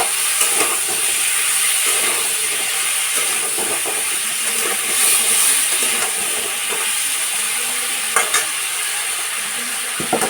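Taro curry with fish frying in a pan gives a constant loud sizzle and hiss, with scraping stir strokes coming at irregular moments close by.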